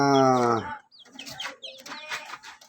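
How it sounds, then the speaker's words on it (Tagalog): White leghorn chickens, around two months old, and chicks in a small backyard flock give loud clucking calls at the start, then softer, scattered peeps and clucks follow. No one speaks. "Ito po ang update ko sa aking sisiw na"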